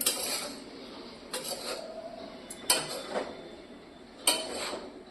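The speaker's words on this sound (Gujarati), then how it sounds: "વઘાર કરી નાખ્યો અને હવે આને પ્રોપર હલાવી નાખીએ" A spoon stirs a freshly tempered dish in a pan, with several separate metallic scrapes and clinks against the pan spaced a second or so apart over a quiet background.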